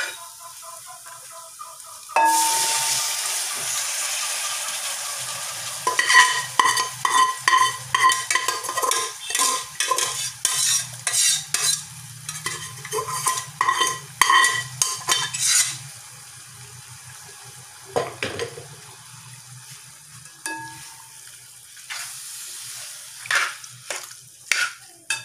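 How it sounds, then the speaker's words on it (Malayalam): Cooked beef tipped into a pan of roasted spice powders and stir-fried, a rising sizzle with rhythmic metal spoon scraping and clanks against the pan, easing to a quieter simmer with occasional stirs. "ഇനി നമുക്കിതിലേക്ക് പോത്തിറച്ചി വേവിച്ചത് ഇട്ട് കൊടുക്കാം."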